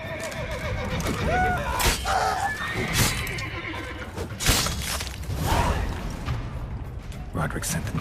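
A horse whinnies loudly several times over a busy, noisy soundtrack from The Witcher 3: Blood and Wine, with clattering effects and voices talking throughout.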